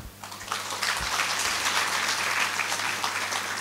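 A church congregation applauds at a Nepali Christian service, a dense, sustained wash of many hands clapping at once, fairly loud and continuous.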